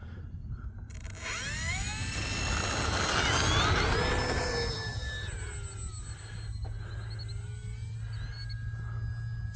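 Arrows P-51 Mustang RC plane rising through a steady whine, its propeller pitch sweeping upward and swelling through the takeoff, then easing into a steadier drone as it climbs away outdoors.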